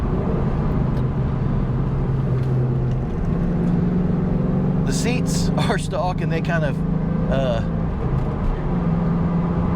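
A 2001 Bullitt Mustang fitted with a Mach 1 hood and mufflers, otherwise stock, drones steadily from inside the cabin while being driven through corners, with someone talking over it.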